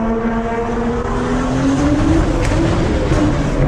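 A loud, rasping modified exhaust on an older BMW howls at high revs, its tone climbing steadily like a supercar, close and continuous with no talking.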